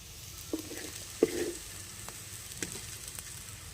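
Onions sizzling in a hot pan, fried until browned, with a steady soft frying hiss and a few light stirring clicks, no talking.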